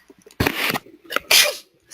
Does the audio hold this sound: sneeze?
yes